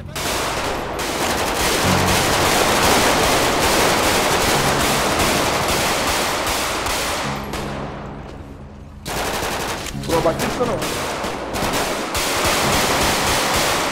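Gunfire in GTA 5 roleplay during an army special-operations mission, rapid bursts of automatic shots crackling almost continuously with a brief lull, loud and close over a low engine-like drone.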